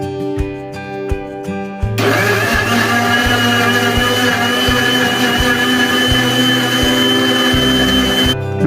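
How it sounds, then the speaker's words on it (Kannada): A mixer grinder blends pineapple for juice. A few short pulses give way to a loud, steady whirring roar that runs with a wavering motor pitch, then cuts off at the end. "ಈಗ ಮಿಕ್ಸಿ ಜಾರ್ನ ಮುಚ್ಚಿ ಚೆನ್ನಾಗಿ ಗ್ರೈಂಡ್ ಮಾಡಿ ನೈಸಾಗೆ"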